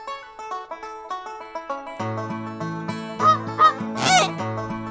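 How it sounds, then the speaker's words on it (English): Goose honking among other animal sounds in a children's learning program, a few loud nasal honks near the end over a busy musical backing with melodic tones. "Hello, noisy goose."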